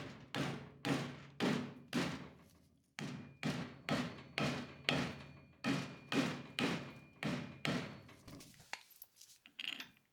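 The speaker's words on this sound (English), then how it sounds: "we'll have to tap it with the mallet" Mallet blows striking a part on an old VW barn-find car during bushing work, a steady series of sharp, close knocks in quick groups, each ringing briefly, with a few scrapes and clatters at the end.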